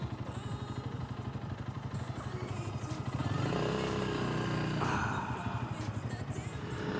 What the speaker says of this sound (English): Oh dear, oh, some motorbikes, what a surprise.